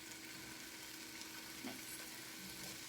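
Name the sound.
sausage sizzling in a frying pan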